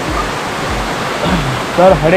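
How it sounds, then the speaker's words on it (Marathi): Steady rushing water from the Shivdav waterfall near Kankavli in Konkan, a continuous hiss beneath someone talking close by. "एक धबधबो असा, शिवडावचो धबधबो"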